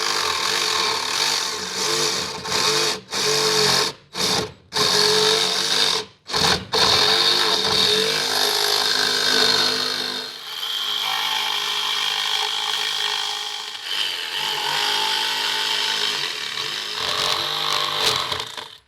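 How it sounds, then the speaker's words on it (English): Jigsaw cutting along marked lines in a workshop, a loud buzzing motor with rapid blade chatter running almost continuously for a long stretch, broken by a few brief stops and restarts early on. "I'm just going to use my jigsaw and cut on these lines or close to these lines here"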